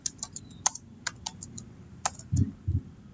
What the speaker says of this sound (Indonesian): kemudian kita ketik Google Trend